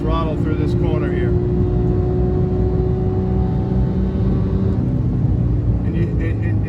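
A 2018 Porsche 991.2 GT3 manual stays on the throttle through a corner, its loud, sustained engine drone holding steady before easing near the end, with someone speaking briefly over it.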